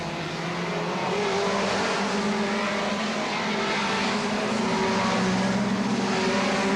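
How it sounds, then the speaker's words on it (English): Hot rod race cars, including a Renault, roar continuously and loudly around the track at the 1975 Hot Rod World Final, with engines overlapping as cars overtake. "That's number 10, Arne Larsen from Denmark in the Renault, just being overtaken."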